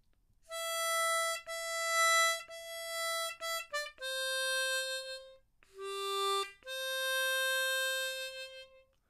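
Solo C diatonic harmonica plays a melody, a run of held notes broken by a few quick short ones, then longer sustained tones, close-up and clear with no talking.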